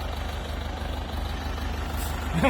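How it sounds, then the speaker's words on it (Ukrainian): A tractor engine idles with a steady low rumble close by at a deep muddy puddle where a stuck vehicle is to be pulled out, growing slightly louder near the end. "Зараз трактор приїхав, попробують трактором потягнути."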